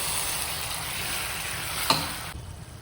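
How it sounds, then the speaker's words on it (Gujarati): A hot mixture of milk and sugar for halwasan, stirred in a pan with a steady sizzling scrape and one sharper clink near the end. "હવે આપણે ધીમે ધીમે ચલાવવાનું છે"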